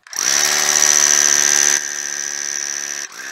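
A power drill bores into a red sandalwood tree trunk with a loud, high-pitched whine that drops in pitch partway through as the bit bites deeper, then stops briefly.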